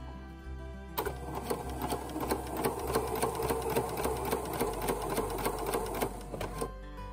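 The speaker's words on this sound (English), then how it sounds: "I got a zigzag stitch selected." Sewing machine running steadily on a zigzag stitch through scrap fabric, a continuous rapid mechanical whir with fast rhythmic needle clatter, close and clear for about six seconds after a brief quiet start.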